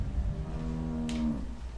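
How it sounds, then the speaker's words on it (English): A cow moos once in The Walking Dead video game, a single drawn-out low call from inside a barn stall with no talking. "The box that moos."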